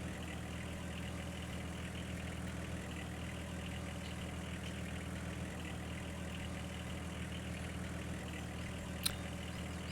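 Pickup truck engine idling low and steady in low gear on a muddy off-road course in the Mudrunner game, a continuous mid-low drone with no breaks.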